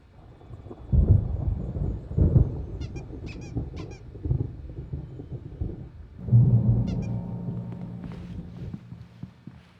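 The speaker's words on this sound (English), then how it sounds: "There's a storm coming. Oh, what a storm." Thunder rolls repeatedly during a storm in the video game Alan Wake Remastered, with deep rumbling bursts near the start and a heavier swell later, plus brief high squeaky sounds in between.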